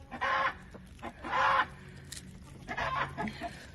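A big red rooster squawks loudly in three harsh bursts, agitated clucking and cackling with short pauses between.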